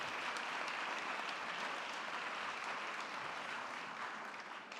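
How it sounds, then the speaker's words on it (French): Soft, steady applause from a distant audience at a medical presentation on nephrotic syndrome, an even hiss of many hands clapping with no pauses throughout. "On vous applaudit."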